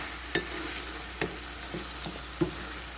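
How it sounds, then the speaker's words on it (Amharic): Onion, tomato, garlic and ginger fry in a pan with a low steady sizzle, broken by a few sharp scrapes and taps of stirring spaced across the clip. "አሁን አብሬ በደንብ አቁላለዋለሁ"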